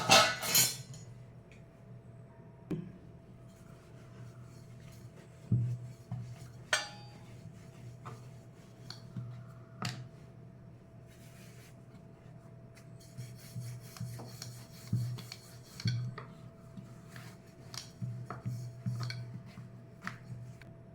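A ball of lachha paratha dough, dusted in flour, is worked with a rolling pin, giving soft repeated rubbing and rasping strokes with occasional light knocks and clicks, close and quiet with no talking.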